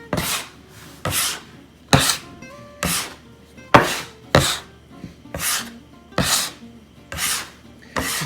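A bench knife scrapes and gathers shaggy pasta dough for handmade pasta in about ten regular rasping strokes, each a loud close scrape with a short pause before the next. No one speaks.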